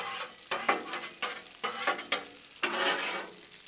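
Teriyaki meatballs with peppers and onions sizzling on a flat-top griddle, a constant hiss punctuated by several scraping spatula pushes in uneven bursts, close and moderately loud.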